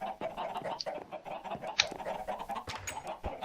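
Minecraft chickens cluck in a busy, crowded coop, a loud overlapping stream of short clucks and squawks with one sharper high cry midway, pressing close and continuous throughout.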